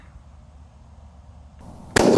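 A single sharp, loud shot from a Ruger American Gen II rifle fired close by, bursting out abruptly after a couple of seconds of quiet outdoor background.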